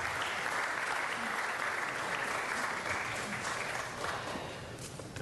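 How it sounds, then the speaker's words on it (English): A city council meeting audience gives a sustained round of applause, dense and steady, with many hands clapping together at close range and no break for its full length. "let's give him another round of applause"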